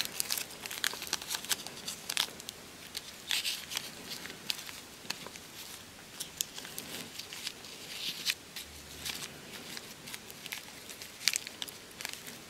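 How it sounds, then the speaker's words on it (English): A homemade battery is pushed into a plastic bag, which crinkles and crackles in dense irregular bursts for several seconds, close and fairly quiet with no talking. "Now we pop it in a plastic bag."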